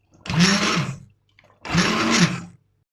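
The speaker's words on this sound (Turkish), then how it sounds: "Blender'ımı çalıştırıyorum." A blender whirs in two loud bursts of about a second each, blending ginger carrot vegetable soup, separated by a brief pause.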